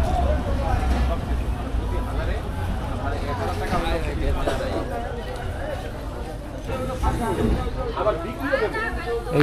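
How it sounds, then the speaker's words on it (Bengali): Crowded platform at Manmathapur railway station, with many passengers' voices blending into a continuous close hubbub, steady and fairly loud throughout, with a low rumble underneath. "এই স্টেশনে কিন্তু অনেক যাত্রী আছে।"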